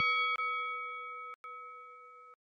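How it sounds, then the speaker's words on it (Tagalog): A bright electronic bell dings as a notification sound effect, a sharp strike followed by two quick repeated chimes that ring on with sustained tones before cutting off. "huwag kalimutan na pindutin ang notification bell"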